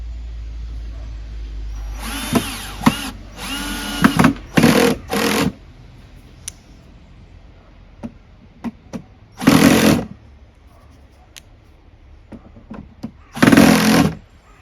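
Power drill driving screws into a wooden Langstroth beehive box, several short whirring bursts of a few seconds each with pauses and small clicks between, close and loud, with no talking.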